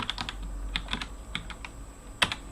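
Clicks of a computer keyboard while a keyboard shortcut is typed during Bash scripting on Linux: a quick, irregular run of light keystrokes, fairly close but quiet, with no voice over them.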